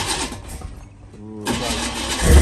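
A 1980 Chevy Camaro's engine cranks and stumbles toward starting after sitting unused for a couple of years, a rough churning whir that dips, then surges into a louder lumpy rumble, close up.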